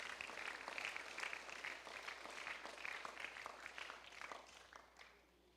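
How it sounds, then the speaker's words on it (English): An audience claps steadily for teachers at a speech event, a dense, sustained round of applause that tapers off near the end, with no talking over it. "Let's give them a big round of applause."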